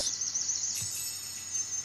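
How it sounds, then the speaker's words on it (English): Birdsong ambience from the OmmWriter writing app, with faint, steady high chirping and tweeting over a soft background hiss and no voices. "Ooh, look at that, birds."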